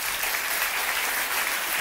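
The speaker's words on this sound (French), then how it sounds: "Par applaudissement, qui aime les animaux?" A live audience claps steadily and loudly throughout in a dense, continuous burst of applause, with no voices standing out.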